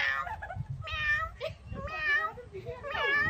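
A person imitates a cat's meow in several drawn-out, wavering calls during a noisy animal-sound game, with a chattering crowd underneath.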